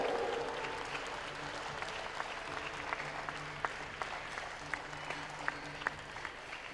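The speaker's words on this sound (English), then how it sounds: "Your applause, please, for the prize winners." Audience applause at a climbing World Cup lead final in Perm, honoring the prize winners; a steady, moderately distant crowd clapping with a few sharper individual claps standing out over a low background hum.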